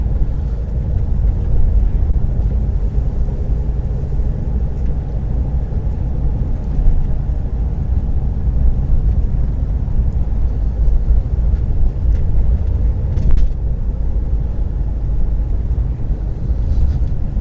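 Steady low rumble of a car cruising on the road from Dover to Folkestone, continuous engine and tyre noise heard from inside, with no talk and a brief bump partway through.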